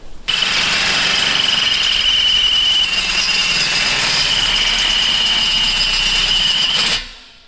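A deep-fit power drill whines loudly and steadily up close for several seconds while drilling holes in a truck, then stops abruptly near the end.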